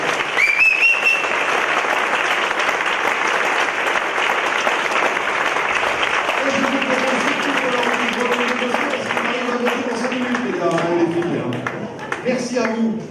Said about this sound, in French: Je vous propose qu'on l'applaudisse avec tout le monde.